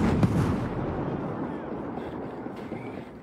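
A bomb goes off in a sniper shooter game, one sharp blast at the start followed by a broad, rumbling roar that slowly fades over a few seconds.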